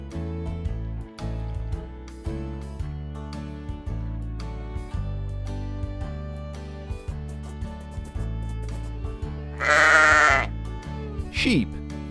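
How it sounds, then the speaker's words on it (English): A sheep bleats in a loud wavering cry followed by a shorter second bleat, both over steady background music. "Sheep."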